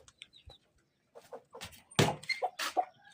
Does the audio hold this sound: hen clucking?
yes